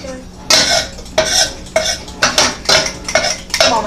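Curry chicken is stirred in a pot, with a utensil scraping and knocking against the metal in a series of about seven loud, close strokes at a regular rhythm.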